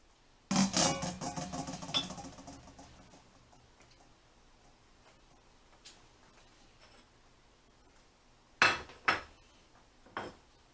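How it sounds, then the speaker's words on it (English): Two pounds of peeled, deveined Gulf shrimp go into a cooking pot for shrimp pilaf, making a loud clattering tumble at first, then a quiet stretch and a few sharp knocks and clinks near the end. "I got 2 pounds of real nice Gulf shrimp, peeled, deveined, and they go in the pot"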